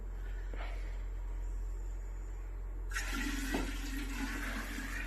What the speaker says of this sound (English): We're going to pick this up and just pour it in.